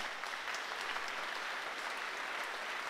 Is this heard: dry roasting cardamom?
no